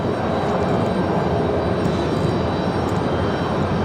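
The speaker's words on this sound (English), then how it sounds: "here comes that Cessna Citation" A Cessna Citation jet taxis at an airport, its engines a loud, steady rumbling roar that holds evenly from start to finish.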